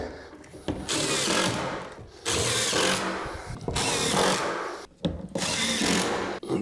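A power drill whirs in repeated bursts of a second or two, separated by short pauses, during bathroom renovation work in a church being converted.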